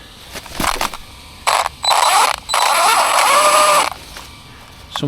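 Gritty mechanical grinding and ratcheting from grit in an RC car's drivetrain comes in several bursts, the longest about two seconds, close up with short pauses between them.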